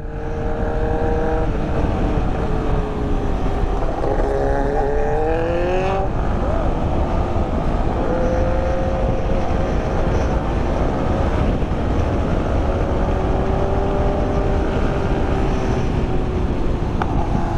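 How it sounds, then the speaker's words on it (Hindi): Loud race exhaust of a modified Kawasaki ZX10R superbike revving steadily and continuously close by, with rising and falling engine tones throughout and faint voices in the background. "रेस स्पीड का एग्जॉस्ट बहुत ज्यादा लाउड है भाई"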